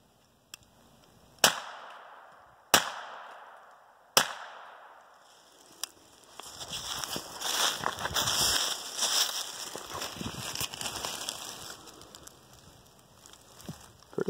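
A .22 LR pistol fires hollow-point rounds at a test target in three sharp, fairly distant cracks spaced about a second apart, followed by a softer fourth report and then faint outdoor shuffling and movement.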